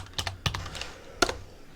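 Several sharp keystrokes on a computer keyboard come in an uneven cluster, followed after a pause by one final clear press, close and fairly quiet with no talking.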